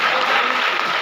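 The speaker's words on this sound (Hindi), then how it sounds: "जोरदार तालियां होनी चाहिए।" Audience applause after a Mughal-e-Azam stage play, dense steady clapping from a large crowd, loud and continuous without a break.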